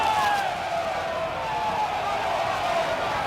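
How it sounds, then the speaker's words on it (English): A rugby match crowd at Maidenhead against Old Alleynians shouts and jeers in protest at a suspected forward pass, a steady, fairly loud roar from the stands with a commentator talking over it. "The crowd aren't happy. They're calling for a forward pass."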